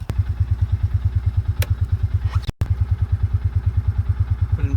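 Polaris Ranger UTV engine working hard as it climbs a hill in four-wheel drive, a steady rhythmic mechanical drone close by with a few clanks and a brief cut midway.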